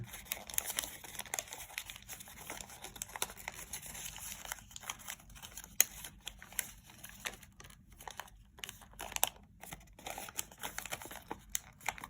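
Origami paper creased and folded for koi fish scales, a string of soft crinkles and crisp paper rustles at close range, quiet and irregular, no talk.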